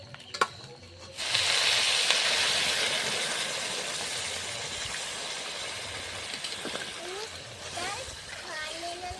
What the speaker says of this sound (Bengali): মাংসটা কিন্তু ভালোভাবে কষা করে নিয়েছি তো এবার জল ঢেলে দেবো